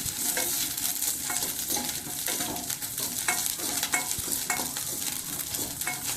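Green chillies frying and being stirred in a pan for peanut chutney, a steady soft sizzle broken by repeated light scraping strokes of a spoon, no voices.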